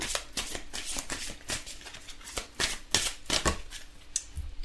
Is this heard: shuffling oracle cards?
yes